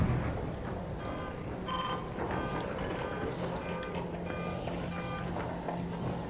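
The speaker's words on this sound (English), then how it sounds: "Somebody set off the alarm." An alarm blares in the video game ARC Raiders: repeated electronic beeping tones pulse over a rumbling, noisy game soundscape at moderate volume.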